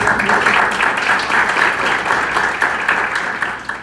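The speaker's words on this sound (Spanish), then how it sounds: "Aplauda o Senhor." Church congregation applauding steadily during a bilingual Spanish-Portuguese worship service, a dense, sustained wash of clapping from many hands filling the room for the full stretch without pause.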